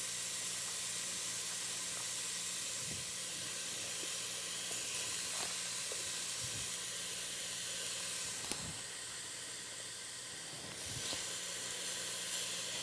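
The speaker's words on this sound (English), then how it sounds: "While we add the beef, it's starting to cook a little bit, and it will release some of the fat into the pan to help things cook." Ground beef sizzles steadily in a hot pan for chili, a constant close hiss with occasional soft clicks and taps of a utensil against the pan.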